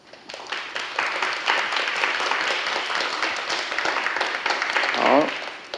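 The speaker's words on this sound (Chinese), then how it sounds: "请大家给他们两位掌声好不好" Audience applause for two artists at an exhibition opening, a crowd clapping steadily and fairly loudly across the whole stretch, swelling near the end as a voice speaks briefly.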